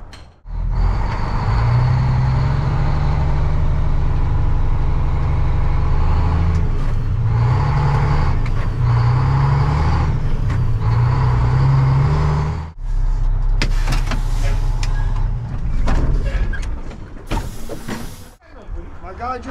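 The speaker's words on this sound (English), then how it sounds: "All right, I gotta go get the dump truck" A dump truck on a concrete job site, there to haul broken-up asphalt, runs with a loud, steady low engine drone for most of the clip. The note rises and dips in pitch, and sharper mechanical clatter comes near the end.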